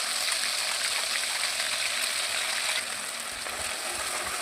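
Ground chili paste sizzling in a generous mix of oil and ghee for a mutton curry, a steady, close, dense frying hiss that holds evenly throughout with no voices.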